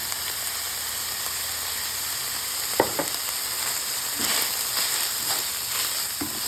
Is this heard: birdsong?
no